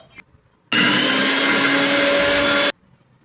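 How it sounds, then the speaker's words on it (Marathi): A mixer grinder whirs loudly and steadily for about two seconds, grinding washed green chillies cut into two or three pieces for a Sambhajinagar-style baingan bharta, starting and stopping abruptly with quiet before and after. "तर ह्याला मिक्सर करून घेऊयात."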